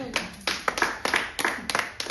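A church congregation at a revival service claps in uneven rhythmic bursts, sharp close slaps arriving in quick clusters with brief gaps between them.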